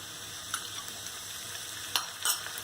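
Chopped tomato with onions fries in a pan for poha, a low steady sizzle broken by a few quick stirring scrapes and clinks, close by and without talk.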